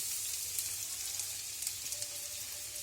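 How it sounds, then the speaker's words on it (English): Bay leaves and chopped onions hitting hot ghee in a pan give a steady, close hiss of frying that holds even throughout, with no voices. "Now the ghee is nice and hot. Just add the bay leaves and quickly add the onions."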